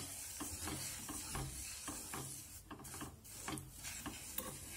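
A spoon stirs sugar as it dissolves into near-boiling water in a pan, making syrup for rava and coconut ladoos. The scraping and swishing strokes come in a steady rhythm, close and fairly quiet, over a bubbling simmer.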